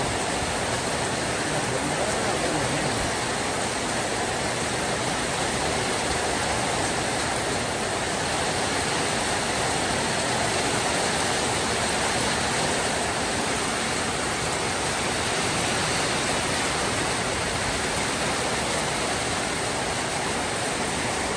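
Rain pours steadily over rice fields in the countryside, a dense, unbroken hiss that stays loud and even from start to finish.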